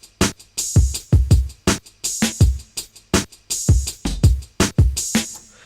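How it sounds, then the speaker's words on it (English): A synthetic open hi-hat sizzles on the offbeats of a hip-hop beat, riding over punchy kicks and bass in a steady looping rhythm, loud and up front with no talking. "The first one was a more synthetic hat, and that sounds like this."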